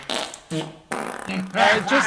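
A voice imitates a fart in a series of short blown, buzzing bursts with brief pauses between them, loud and close, over what sounds like an online open mic.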